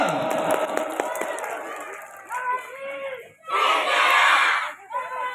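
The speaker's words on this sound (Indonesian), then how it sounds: "boleh berikan tepuk tangan yang paling meriah untuk jawara-jawara pencaksilat Jawa Barat" Audience at a West Java pencak silat hall inauguration in Sumedang cheers and shouts for the pencak silat champions, a loud crowd roar swelling in bursts with a big surge near the end, over busy background noise.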